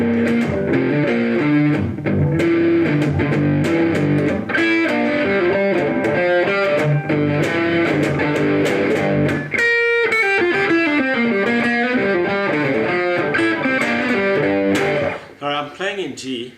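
A distorted electric guitar plays a continuous run of notes and chords, loud and up close, with a brief pause near the end.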